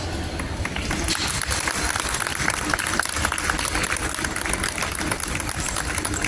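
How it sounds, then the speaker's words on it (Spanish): Sustained applause from a crowd, a dense continuous clatter of clapping at steady loudness throughout. "muchas gracias por los aplausos"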